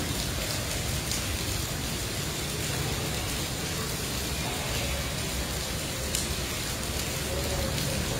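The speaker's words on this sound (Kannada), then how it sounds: "ಎಷ್ಟು ಭರ್ಜರಿ ಮಳೆ ನೋಡಿ." Heavy monsoon rain in Mumbai pours down in a constant broadband roar, dense and unbroken for the whole stretch, with faint traffic or other noise blended underneath.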